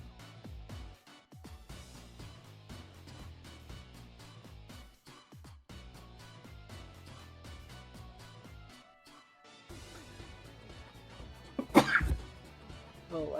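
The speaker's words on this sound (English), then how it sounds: "Powerful sneeze." One powerful, loud sneeze bursts out near the end over steady background music.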